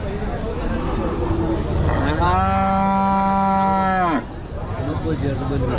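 A single long, loud cow moo rises over a busy crowd of voices and livestock noise at a Qurbani cattle market in Ashulia, lasting about two seconds before the chatter continues.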